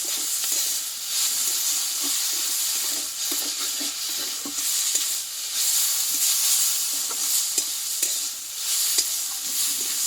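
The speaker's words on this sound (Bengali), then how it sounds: "এই চিনিটা দিয়ে আমি আরও কিছু নাড়াচাড়া করে নেব" Shapla water lily flowers with sugar sizzle in a pan while being stirred, a close steady frying hiss broken by repeated spatula scrapes and taps.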